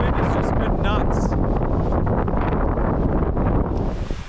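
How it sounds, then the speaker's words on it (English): Strong, freezing winter wind in the mountains buffets the microphone with a loud, continuous roar and rumble, gusting throughout and easing slightly at the end. "This wind has just been nuts."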